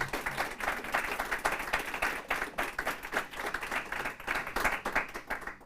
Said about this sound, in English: I hope you give my panelists here a round of applause, thanking them for their time tonight.